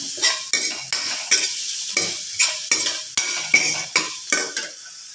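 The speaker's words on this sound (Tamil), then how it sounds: "உருளைக்கிழங்கு நல்லா கிளறி" A spoon stirs a spiced mashed potato mixture for potato bonda, an evening snack, in a bowl. It makes a close, rhythmic series of about a dozen scraping, squelching strokes against the bowl at a steady pace, with no voices.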